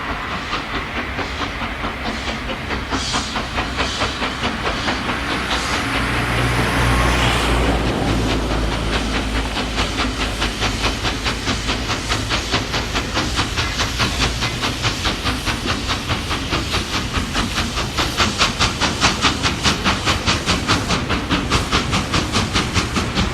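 Stanier steam locomotive 6201 hauling the Scarborough Flyer on the main line, a steady loud rhythmic chuffing and hiss with clattering rail noise throughout, swelling as it passes close around the middle.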